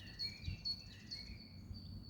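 A small bird calls in short, high, thin chirps from a tree in spring, the notes faint and a little distant over quiet outdoor hum, with no talk.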